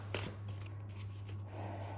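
Tarot cards are shuffled off camera, giving a soft papery riffle with a brief crisp flick near the start, all over a steady low electrical hum and without any talk.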